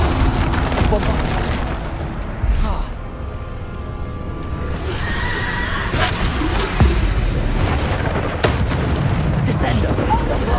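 Spell explosions from Bombarda boom repeatedly in Hogwarts Legacy combat, heavy blasts and bursts layered over dense game noise, with a voice speaking throughout.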